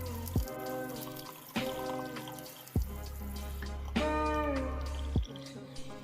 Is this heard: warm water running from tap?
yes